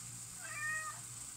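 A pet cat on a kitchen counter lets out a single short meow, quiet and somewhat distant, over a low steady room hum.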